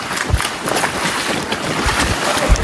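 Strong wind buffets the microphone out on a small boat, a steady loud roar with low thumps and gusts throughout, water and hull noise blended underneath.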